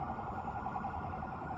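An ambulance siren sounds at a fire scene after a gas explosion in BGC, Taguig, a distant steady wail heard faintly under a constant city rumble.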